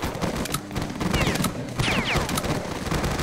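Gunfire from the video game STALKER: Shadow of Chernobyl crackles in dense, rapid bursts of sharp shots, with zipping ricochet-like whines overhead, loud and close with no talk.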